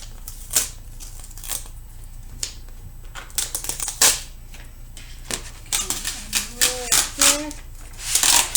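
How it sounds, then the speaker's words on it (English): Cut vinyl being peeled off a Cricut cutting mat for a fence board sign, a series of close, sharp crackling pulls and ticks of varying loudness over a steady low background hum. "To peel it off, you just go from the back here and just start to peel it off."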